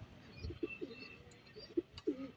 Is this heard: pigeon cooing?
yes